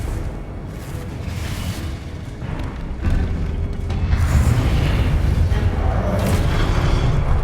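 A Confringo fire spell in Hogwarts Legacy bursts with a deep booming blast, and the rumble swells and lingers loudly for several seconds.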